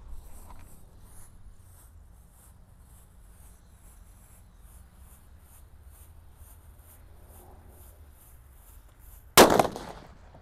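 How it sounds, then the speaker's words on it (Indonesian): After a long quiet stretch, a red disco happy flower firecracker goes off near the end with a single sharp, loud burst that trails off quickly. "di sini ada mercon disco happy flower yang tor ya, warna merah. Kita nyalakan."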